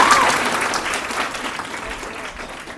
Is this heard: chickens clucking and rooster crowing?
no